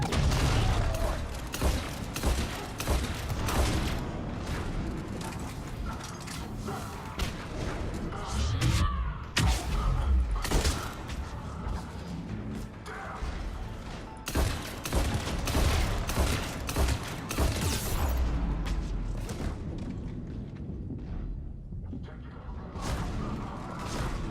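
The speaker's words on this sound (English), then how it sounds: "How about you waste some shots on the shield, Edie?" Dense, continuous gunfire and explosive booms from a firefight in the video game Mass Effect 3, loud and unbroken for the whole stretch, with bursts, crashes and occasional voices mixed into the battle noise.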